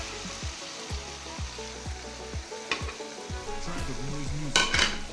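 Marinated chicken tipped into hot oil over fried tomato sizzles steadily, with a regular series of spatula scrapes and clinks against the pan that build into a louder, fuller crackle near the end.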